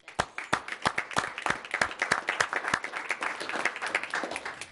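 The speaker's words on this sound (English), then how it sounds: "You deserve a round of applause." Applause at a board meeting from a small group in a room, a few dozen distinct claps that are close and crisp, ending abruptly.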